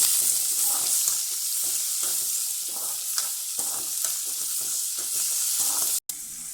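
Onions sizzle and sauté steadily in a pan for a hotel-style cauliflower vegetable kurma, a continuous close frying hiss broken by soft stirring scrapes, with a brief dropout near the end.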